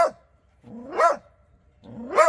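A dog barks three times, each a loud, deep woof spaced about a second apart, close by with quiet between.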